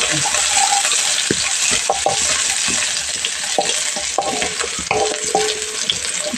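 Onions frying loudly in a pan after mustard seeds have popped, a constant bright sizzle close by, with scattered scraping knocks from a spoon stirring them.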